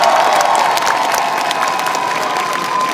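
Steady applause and cheering from an audience at an outdoor b-boy breakdancing festival on Nodeul Island in Seoul, a dense, continuous clapping crowd close by that holds level throughout.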